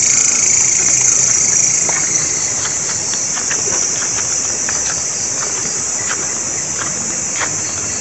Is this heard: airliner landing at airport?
no